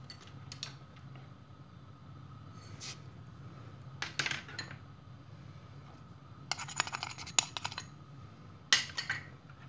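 Cake batter for an orange juice cake being lightly stirred in a bowl, heard as scattered clinks and scrapes of a utensil against the bowl, quiet and irregular, with no talking.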